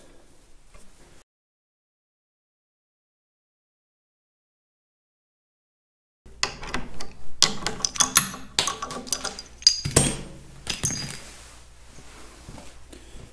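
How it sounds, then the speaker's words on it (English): Metal clinks and ratcheting ticks as bolts are tightened on the starting system of a Caterpillar D2 crawler tractor, a close, irregular run of sharp taps after a long silent stretch. "just start tightening the bolts"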